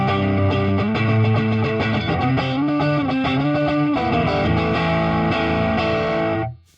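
Electric guitar played through a digital amp with the drive knob fully up, heavily distorted chords ringing loud and sustained, shifting through a short riff before cutting off abruptly at the end.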